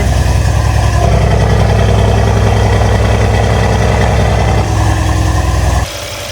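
A swapped engine in a wrecked Mercedes C63 running for the first time, a loud steady close idle with a rapid low pulsing throb, then dropping slightly in level near the end.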